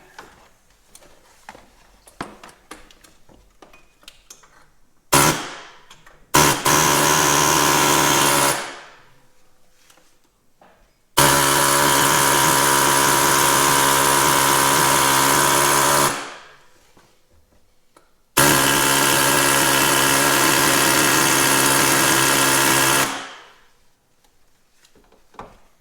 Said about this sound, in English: Little air hammer action for you.